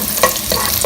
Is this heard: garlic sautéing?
yes